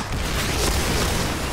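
Grenade blast in a first-person shooter video game, a loud dense booming burst of noise filling the whole short moment, sustained and heavy without any speech over it.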